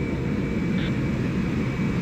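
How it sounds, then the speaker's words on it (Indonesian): A Turkish presidential state aircraft sits on the apron at Halim Perdanakusuma airbase in Jakarta with its jet engines running before takeoff, giving a steady, loud, droning roar with a faint high whine. "pesawat kenegaraan yang akan lepas landas sesaat lagi dari Lanut Halim Perdana Kusuma, Jakarta"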